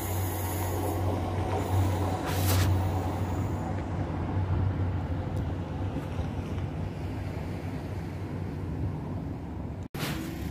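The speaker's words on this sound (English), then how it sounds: "Coming through now is a class 142 on the way to Hull." A Class 142 diesel train bound for Hull rumbles steadily past close by at Rotherham Parkgate, with a low engine drone and rolling rail noise that holds throughout.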